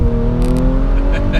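Audi RS5 engine pulling hard out of a corner, a loud steady drone that rises slightly in pitch, with brief tire or wind hiss on top and no talk over it.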